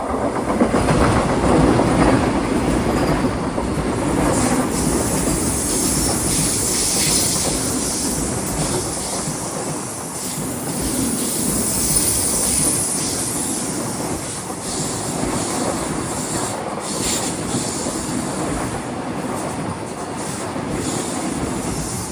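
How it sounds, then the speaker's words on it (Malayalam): The Thiruvananthapuram–Mangaluru Central Vande Bharat express rolls past at a station, a loud, sustained rumble with clattering wheels and hissing that stays steady throughout. "തിരുവനന്തപുരം മംഗളൂരു സെൻട്രൽ വന്ദേ ഭാരത് ഇതാ കടന്നു വരികയാണ്."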